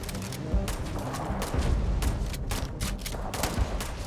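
Rapid bursts of gunfire in the space game Starfield crackle repeatedly over several seconds, dense volleys with short gaps, fairly close and steady in loudness.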